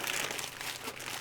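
A plastic bag crinkles as it is handled during an unboxing, a brief, soft, close rustle without talk.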